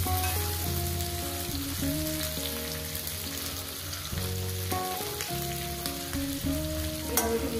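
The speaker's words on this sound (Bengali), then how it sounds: "সুন্দর করে আলু, পেঁয়াজ, ঢেঁড়স সব কিছু ভাজা হয়ে যায়" Okra, potato and onion frying together in a pan: a continuous crackling sizzle close up with occasional stirring. Soft tonal background music plays underneath, and no one speaks.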